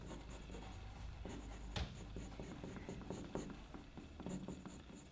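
Pencil drawing on paper as claws and a nut are sketched in, soft scratchy strokes repeating in short bursts close up, with one sharper tap partway through.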